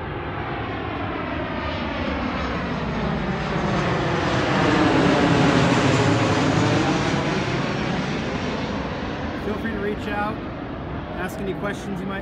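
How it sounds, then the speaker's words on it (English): A small propeller plane drones overhead, swelling steadily as it passes and slowly fading, loud and continuous, with a few brief clicks near the end. "Little plane flying over."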